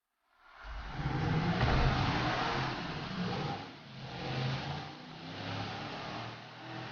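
Car engine in GTA 5 revving up from near silence, a loud sustained roar that rises, dips and swells again in uneven surges, heard alone without talk.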